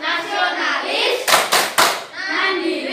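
Classroom children performing the PPK clap chant, with chanting voices on both sides of a quick patterned burst of three loud group claps in the middle.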